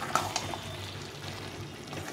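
Large fried potato chunks are stirred into sizzling mutton curry in a pan. A couple of sharp utensil clanks come first, then a steady, fairly quiet sizzle with no talk.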